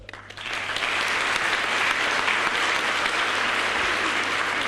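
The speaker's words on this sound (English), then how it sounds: "maybe we can support with one applause our fantastic choir" An audience at a university opening ceremony applauds a choir, clapping rising within the first second into a dense, sustained round that holds steady to the end.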